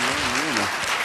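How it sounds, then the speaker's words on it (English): An audience at a mayoral candidate forum claps in a dense, steady burst of applause, with a voice briefly speaking over it. "Please give them a warm round of applause."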